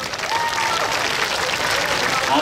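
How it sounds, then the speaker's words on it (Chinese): An audience at a high school media club performance claps warmly and steadily, a dense sustained applause filling the room from start to end. "来，大家再最热烈的掌声给他们鼓励一下。"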